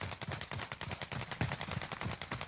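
Rapid automatic gunfire in the video game Warzone rattles in fast, evenly spaced bursts at moderate distance, continuing without pause and with no talk over it.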